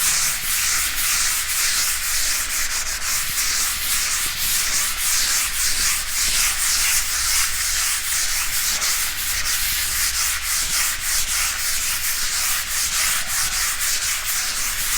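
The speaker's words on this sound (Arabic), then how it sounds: "وبحركة دائرية نبدأ نصنفر المعجون والجدران" Wall putty is sanded by hand with sandpaper in circular motions, producing a continuous rough, gritty rubbing that stays even and close throughout. A low steady hum sits underneath.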